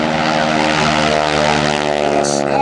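A P-51 Mustang or similar propeller plane takes off at an airshow with a loud, steady engine roar up close, and the sound holds strong for the whole stretch.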